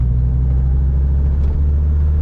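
Stock muffler exhaust of a 1996 Dodge Viper RT/10 idles with a deep, steady low rumble, loud and close, holding even throughout with no voices.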